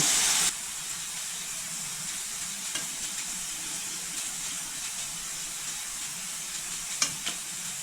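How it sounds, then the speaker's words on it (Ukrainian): Liver fries in a pan over low heat, giving a steady, soft sizzle and hiss that runs throughout, with a couple of faint pops and clicks. "печінку потрібно обсмажувати на невеличкому вогні аби вона сильно не бризгалася жиром"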